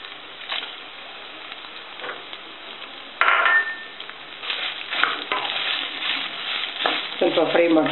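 Whole Byadgi red chillies fry in a pan, a close crackling sizzle with intermittent scrapes and clinks of a utensil against the pan that grow busier toward the end.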